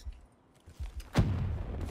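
A single loud gunshot-like blast from a multiplayer match of the video game Call of Duty Black Ops 3, following some faint low thumps and trailing off into a sustained rumble.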